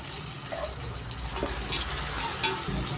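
Chopped tomato and chillies frying in a pan for capsicum biryani, heard as a steady close sizzle with soft stirring scrapes and a few wet splashes, without any talking.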